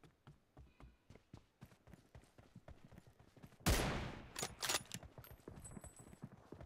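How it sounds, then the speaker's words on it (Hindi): PUBG Mobile gunfire: a loud burst of shots erupts midway, followed by a couple of shorter bursts, all over a quieter background of light clicking taps. "मारो मारो दूसरी गोलियां, दूसरी बंदूक चलाओ"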